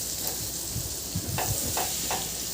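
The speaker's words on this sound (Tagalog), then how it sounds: "Ihalo lang din hanggang sa maluto yung harina, hanggang sa mahalo talaga sa ating butter" Flour being stirred into about two tablespoons of melted butter in a pan, a steady broadband sizzle with soft scraping strokes throughout.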